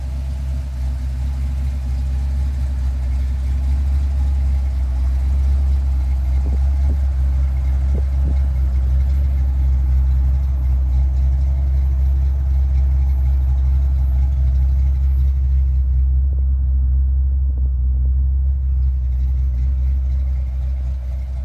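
A car engine idles close by with a steady, heavy low rumble that holds evenly for the full length, smooth and unbroken, with no voices over it.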